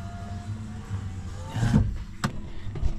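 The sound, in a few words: car power window closing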